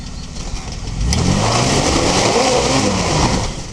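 A car engine revs while driving, a steady loud mid-pitched drone that rises and falls as the throttle is worked, heard close with no voices.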